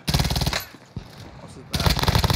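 Rapid automatic gunfire in Call of Duty: Warzone on Rebirth Island, loud sustained bursts opening and closing the clip around a quieter gap with a single shot.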